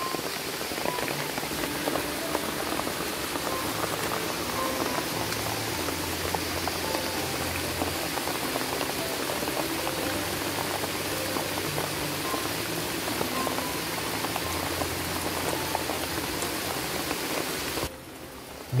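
Heavy rain pouring down outside a makeshift shelter in the forest during a wilderness survival stay, a dense, unbroken roar of water drumming steadily close by for the whole stretch, with no talking.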